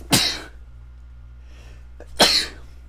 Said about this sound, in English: sorry, I had to sneeze